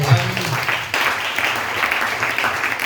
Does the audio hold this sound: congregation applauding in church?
yes